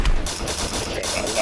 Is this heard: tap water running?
no